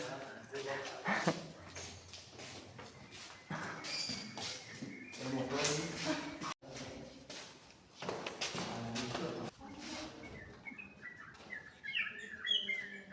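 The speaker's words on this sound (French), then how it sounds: "Et on entend des oiseaux, j'adore." Birds, some in small cages, chirp and twitter in short bursts under steady conversation at Taman Sari water castle, with light tapping and shuffling in the background.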